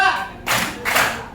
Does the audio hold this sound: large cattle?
no